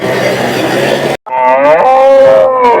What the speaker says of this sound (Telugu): ఒక జెర్సీ ఆవు అయితే ఉంది